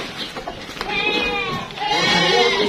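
Goats in a pen bleat in overlapping, wavering cries, loud and close, with livestock clatter around them and no one speaking.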